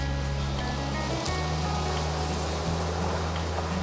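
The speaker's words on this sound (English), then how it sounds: "a ford where the girls are eager to try out their first water crossings" Four-wheel-drive cars ford a shallow river crossing in a valley, a steady low engine drone shifting in pitch as the vehicles push through, with broad washing water noise over it.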